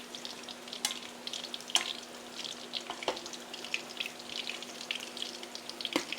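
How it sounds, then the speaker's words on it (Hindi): Food frying in a pan with a quiet, steady sizzle broken by scattered crisp pops and crackles, close by and with no one talking. "बस इसको छोड़ती हूँ कि ज़रा सा ये फ्राई हो जाए"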